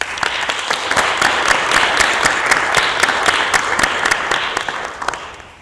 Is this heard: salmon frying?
no